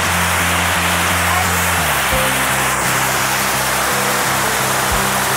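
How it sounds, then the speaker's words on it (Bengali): Water pours down from a lock gate at Topchanchi Lake in Jharkhand, a loud, unbroken rushing roar heard up close, with faint low tones beneath it. "ঝরঝর করে পড়ছে ওপর থেকে জল।"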